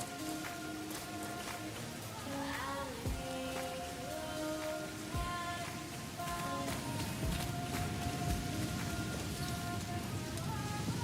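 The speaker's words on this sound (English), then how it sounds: "It's raining." Rain falling in the factory-building game Satisfactory, a steady hiss of drops on surfaces with background machinery tones and an occasional thump.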